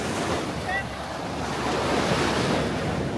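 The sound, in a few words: strong ocean waves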